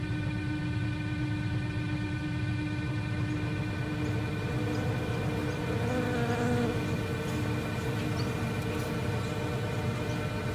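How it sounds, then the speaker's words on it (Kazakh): Swarm of small flies pouring out of holes in a body, a steady close buzzing drone that holds at an even level throughout, with no voices. "бұл тесіктердің ішінен кішкентай шыбындар шығып жатыр екен"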